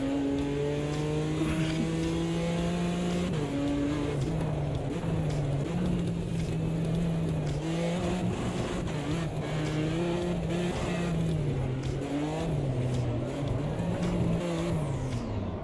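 BMW drifting with traction control off in Automobilista 2 (AMS2): a steady engine drone rising and falling with throttle, with tire squeal woven through a continuous loud run.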